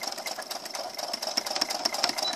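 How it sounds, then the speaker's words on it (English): Sewing machine back stitching the neck band of a Christmas apron, a steady mechanical whir with rapid needle ticks running continuously at close range for a couple of seconds, with no talk. "Okay, I'm going back stitch."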